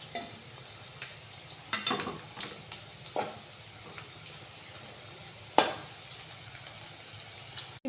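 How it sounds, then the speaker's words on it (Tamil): Plantain pieces deep-frying in hot oil for Plantain 65, a steady soft sizzle and bubbling close by, broken by a few sharp crackles and spatters as pieces are stirred or turned. "இப்படியே நம்ம எல்லாத்தையும் பொரிச்சு எடுத்துக்கலாம்."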